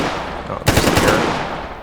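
A turret machine gun fires in the video game Stalker GAMMA, a short, loud, rapid burst of automatic shots that starts abruptly and rattles on for about a second.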